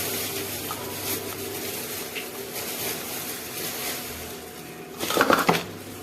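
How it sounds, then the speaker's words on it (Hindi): Roasted wheat flour for gond laddoos is tipped little by little into a large metal thaal: a quiet kitchen hum, then a short, louder clattering scrape near the end. "जो हमने आटा भुना है वो हम थोड़ा थोड़ा करके इसमें थाल में डालेंगे"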